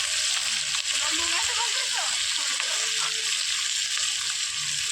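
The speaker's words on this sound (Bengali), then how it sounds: "এবার আমি তেলের মধ্যে লঙ্কাগুলো দিয়ে দেবো" Chillies frying in hot oil after fish has been fried for a Bengali fish curry, a steady loud hiss and sizzle filling the whole stretch with faint clinks underneath.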